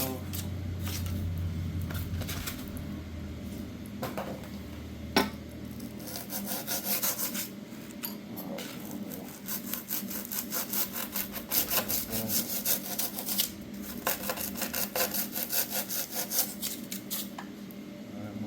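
Hand sawing through wood to trim edges off a piece for a lowrider bicycle build, rapid rhythmic rasping strokes close by, pausing briefly around the middle before resuming steadily.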